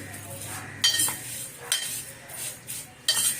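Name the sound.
vermicelli being roasted and stirred in a pan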